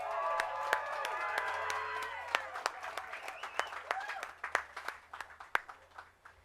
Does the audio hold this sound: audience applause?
yes